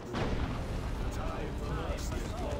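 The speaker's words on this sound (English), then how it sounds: "Predator tank on the field, shooting up the Warlock." A Predator tank fires in Dawn of War 2: Retribution, with a booming artillery-like blast and continued battle rumble while a commentator talks over it.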